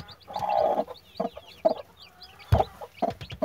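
Newly hatched chicks peep in quick, high chirps scattered through the moment, mixed with louder, lower clucking bursts close by.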